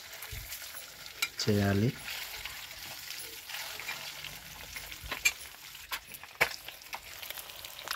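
Eggs fry in a pan with chili powder, a steady background sizzle with scattered stirring scrapes and clicks, while a voice speaks briefly near the start.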